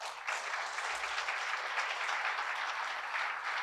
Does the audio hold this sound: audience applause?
yes